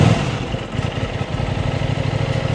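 An Aprilia RS660 sport motorcycle, stock, idling after start-up with a steady low pulsing engine note, close and fairly loud, no voices.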